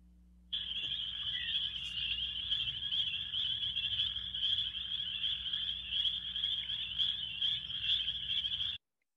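A recorded chorus of spring peeper frogs, a Michigan species, plays as a dense, continuous wall of high, shrill peeps that starts abruptly, holds steady and loud for about eight seconds, then cuts off.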